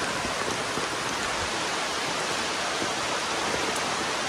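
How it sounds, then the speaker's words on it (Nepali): Heavy rain pours down in a steady, dense hiss that stays even and loud throughout, with no voices. "कत्रो पानी परेको त हौ"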